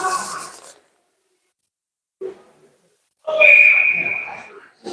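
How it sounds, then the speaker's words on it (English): Referee's whistle at an ice hockey game as play stops in the corner: one clear, fairly loud shrill blast after a short break in the commentary, with arena noise around it. "We get a whistle down there in the corner"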